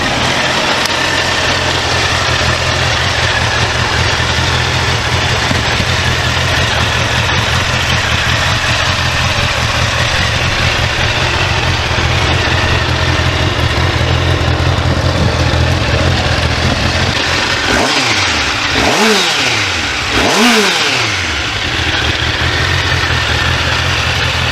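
Engine of a Honda CB classic motorcycle idling steadily and loud throughout, then two quick throttle blips near the end, the revs rising and falling twice in succession.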